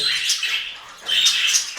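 Budgerigars squawk and chatter loudly in two dense bursts, harsh high calls crowding together close by with a brief lull between them.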